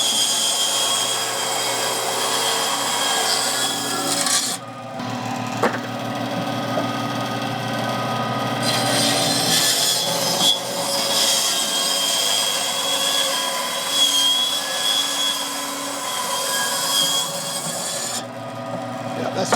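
A bandsaw cuts through a large firewood log, a loud sustained rasping grind over the machine's steady motor hum, pausing briefly twice before cutting again.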